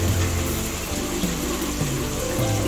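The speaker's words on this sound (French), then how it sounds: "Donc on va ajouter de l'eau." Lukewarm water pours into a pot of rice with beef and fresh shrimp, a steady, fairly loud rushing stream that runs continuously throughout.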